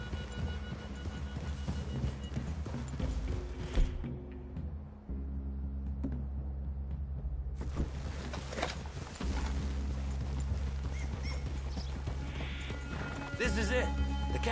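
Horses in Red Dead Redemption 2 walk with steady hoof clip-clops and an occasional whinny amid outdoor ambience, and voices talk over them at points.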